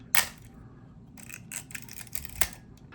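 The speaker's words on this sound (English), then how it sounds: "Release the shutter, and then as I advance the film" A Praktica MTL3 35mm film camera gives a sharp shutter release click, then a string of quieter mechanical clicks and ratchets as the film advance lever is worked, close and fairly faint, with no talking.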